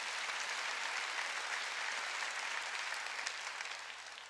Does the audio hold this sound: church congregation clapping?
yes